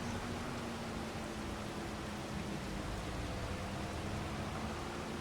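Rain falls on a farm as a steady, soft, even hiss that continues without a break and with no voices.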